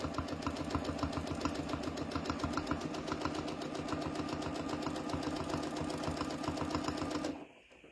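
A domestic sewing machine running free-motion quilting loops, with a fast, steady mechanical whirring and needle clatter up close, continuous for several seconds before stopping abruptly.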